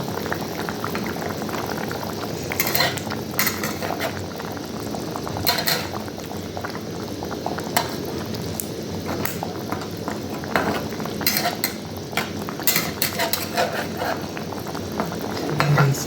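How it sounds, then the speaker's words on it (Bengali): Rupchand fish curry boils in a pot, a steady close bubbling and simmering that goes on throughout with occasional faint clinks. "দেখুন ঝোলটা ফুটে উঠেছে ভালোভাবে"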